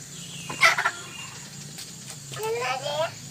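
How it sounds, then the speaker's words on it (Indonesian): Chickens in a backyard coop clucking and squawking in short bursts at close range, with a voice speaking over them and a steady outdoor background hum. "Ini ayam cuma lari-lari."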